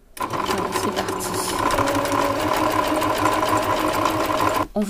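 A sewing machine runs steadily to secure and finish a seam inside a skirt being taken in from size 40 to size 36, a close, continuous whirring hum that stops abruptly near the end.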